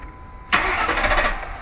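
A car engine cranks and catches with a sudden burst, then settles into a steady, fairly close idle with a faint rhythmic pulse.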